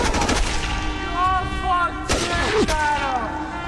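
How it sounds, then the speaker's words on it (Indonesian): Gunshot sound effects in a dramatized sniper story, several sharp loud cracks with ringing, whistling tails, spaced across a few seconds over a backing of sound. "salah satu dari mereka malah menembak adik Husain"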